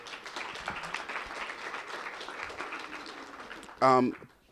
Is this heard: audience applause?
yes